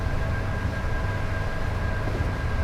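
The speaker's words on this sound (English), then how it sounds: "Class 45 noise over there off of Northern Transpennine" Diesel rumble of a Class 45 locomotive in the Just Trains simulator on the West Coast Main Line near Carnforth, a steady, loud low-pitched drone with a faint whine, continuous and unbroken, with no talking.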